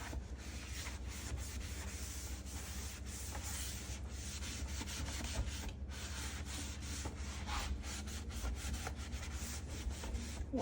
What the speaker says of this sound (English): I'm going to dry this sink completely.